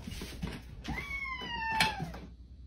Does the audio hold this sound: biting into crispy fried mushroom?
no